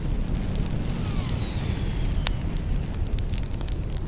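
A rocket blast in the video game Worms Reloaded gives a loud, sustained roaring rumble with crackling debris and a faint whistling streak, steady throughout with no talk.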